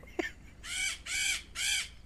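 Three loud, harsh caws from a crow in a Unity-based roleplay video game, evenly spaced and close, each lasting about a third of a second, with a short thump just before them.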